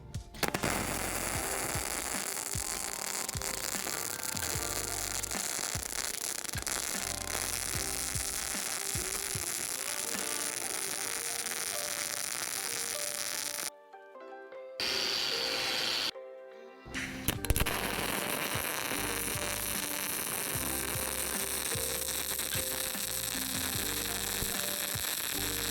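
MIG (GMAW) welding runs as a steady, loud, crackling sizzle over a constant hum. The arc cuts out twice briefly near the middle for starts and stops, then resumes.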